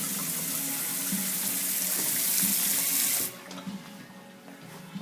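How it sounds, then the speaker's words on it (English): An industrial-style kitchen faucet runs a steady stream into a new sink, close and hissing, then the flow drops off sharply after about three seconds, leaving a softer trickle. "Like this industrial looking faucet I'll turn on now."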